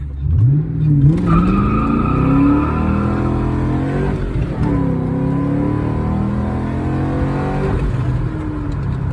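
A car running on 89 pump gas after a throttle body cleaning launches hard from a stop, its engine note climbing loud and close through the gears while the tires briefly squeal.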